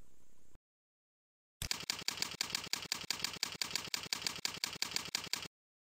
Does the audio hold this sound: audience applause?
no